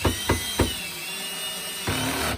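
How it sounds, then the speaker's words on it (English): A power driver sets screws into a Flow Hive 2 wooden hive base, with a few short bursts followed by a longer steady whine as a screw that is going in crooked is driven home, close and alone. "Because they don't line up, these screws are not going in"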